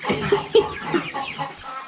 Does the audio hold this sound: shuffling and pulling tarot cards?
no